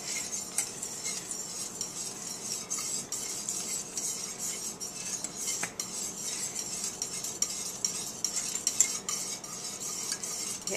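A spoon stirs cornstarch vigorously into a pot for a Lebanese Nights dessert, a steady quiet scraping and swishing with faint clinks of metal against the pot, continuous throughout with no talk.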